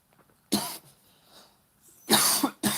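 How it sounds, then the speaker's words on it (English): A person gives a dry cough, one sharp bark followed by a pair of quick harsh coughs, close and loud against near silence. "I had this cough down since I got down here. It's like a dry cough."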